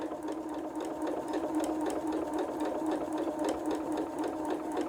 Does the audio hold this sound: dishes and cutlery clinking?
no